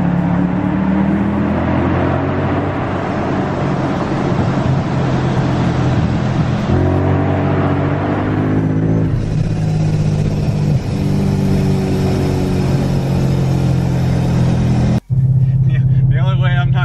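A car on drag radial tires revs hard inside a tunnel, its engine roaring and echoing loudly with pitch swings between gear changes, a brief cut near the end, and faint speech underneath.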